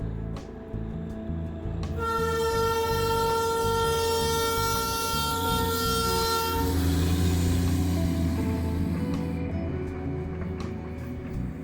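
A Darjeeling toy train rumbles steadily nearby while a long, sustained horn blast sounds for several seconds, then the heavy rolling clatter continues.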